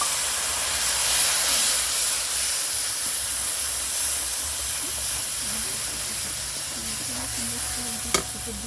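Water poured into a hot pan of chili powder and Kashmiri chili powder spices sets off a loud, steady hiss and sizzle that holds for several seconds, with a faint clink near the end.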